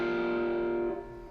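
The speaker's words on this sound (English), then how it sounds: "With a heavy distortion and a bit of sustain." An electric-style ukulele chord rings out with heavy distortion and sustain, a single sharp buzzing strum that holds bright and steady, then drops off and fades near the end.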